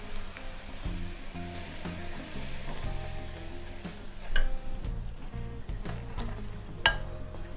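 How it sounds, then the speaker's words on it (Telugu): Hot oil poured into wheat flour and stirred in by hand for methi snacks, giving a soft continuous sizzle with scraping and a few light clinks against the bowl, close and steady. "నూనె పోసి కలుపుకోవాలి"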